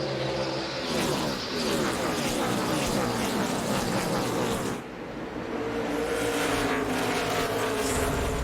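NASCAR Cup race cars at Richmond in 2006 roar past in a loud, sustained engine howl with swelling passes, briefly dipping near the middle before building again.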